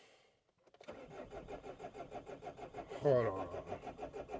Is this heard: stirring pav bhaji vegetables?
no